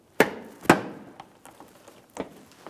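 Plastic front bumper cover on a 2016-2022 Honda HR-V being pried away from the fender and headlamp assembly: two sharp loud pops close together, then softer clicks and a later snap, no talking.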